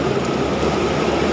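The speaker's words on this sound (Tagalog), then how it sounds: "Dito rin ako inabot ng ulan" Heavy rain pours onto a shelter roof where a cyclist waits out the downpour, a dense, steady roar of drops with no break, loud and close.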